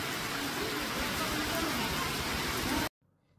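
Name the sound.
heavy rain falling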